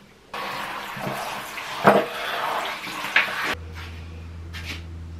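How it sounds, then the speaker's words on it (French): Running shower water rinsing hand-washed caps, a steady broadband spray for about three seconds with a couple of louder splashes, then cutting off to a low hum and faint drips. "On va rincer tout ça dans la douche parce que c'est des casquettes donc ça se lave à la main."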